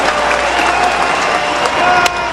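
A baseball stadium crowd of more than 17,000 rises to its feet cheering and applauding, a loud, steady roar of clapping and voices filling the whole stretch.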